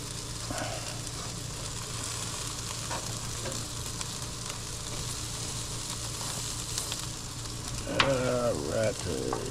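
Three racks of baby back ribs sizzle and fry steadily on a grill, a continuous close crackling hiss with a brief clatter near the end as the meat is turned.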